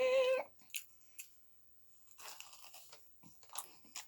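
Crunchy fried chicken wings are bitten and chewed close up, with a few sharp crunches scattered among softer mouth sounds and quiet pauses.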